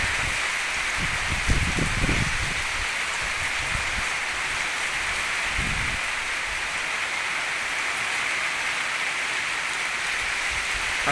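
Steady rain falls on surfaces around homes in Phu Sang district, Phayao, a dense constant hiss of drops near and loud, with a few low rumbling bumps early on and no speech.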